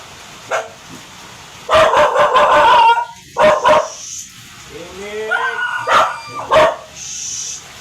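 Dogs bark and yip in short bursts, some loud and close, with whimpering sounds between and quiet background noise.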